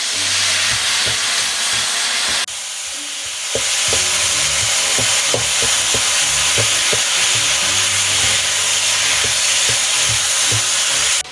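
Minced meat for san choy bao sizzles loudly in a pan, the steady frying hiss broken by repeated scraping and clacking as a utensil stirs it around.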